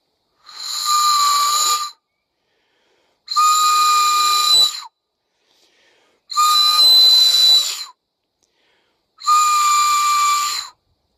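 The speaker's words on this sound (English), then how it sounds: "take that shell case and make a whistle out of it" Whistle made from a spent shell case, blown outdoors in the woods: four long, shrill, piercing blasts of roughly two seconds each, evenly spaced with quiet gaps between, loud and close.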